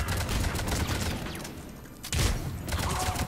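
Rapid bursts of gunfire from a grenade launcher and an Avenger assault rifle in Mass Effect 3, dense and continuous, dipping briefly in the middle before a loud burst resumes.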